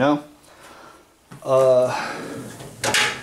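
A tool box drawer slides open or shut twice, a short clattering run of metal scraping and bumping, fairly close amid light room noise.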